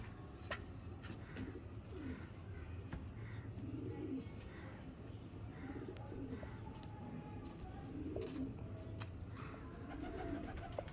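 Pigeons cooing softly in a flock kept by a pigeon breeder, repeated low coos spread through a steady noisy background, with faint voices in the distance.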